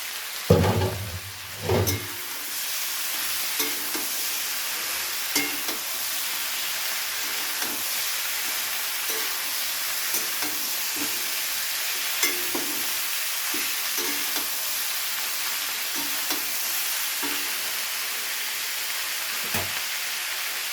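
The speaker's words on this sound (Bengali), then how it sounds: "এবারে দিয়ে দেবো সেই সিদ্ধ করে রাখা ফুলকপির ডাঁটাগুলো।" Boiled cauliflower stalks go into a frying pan for a winter-vegetable prawn curry, with a couple of loud clattering stirs at first, then a steady sizzle and hiss and soft scraping taps of the spatula continuing throughout.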